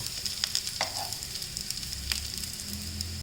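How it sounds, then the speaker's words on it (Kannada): Besan vada made from gram flour fry in a pan with a steady, soft sizzle and faint crackles and pops. The sound is fairly quiet and continuous throughout. "ಸ್ವಲ್ಪ ಬ್ರೌನ್ ಆಗಿ ಚೆನ್ನಾಗಿ ಆಗೋ ಹಾಗೆ ಬೇಯಿಸಿದ್ದೀನಿ"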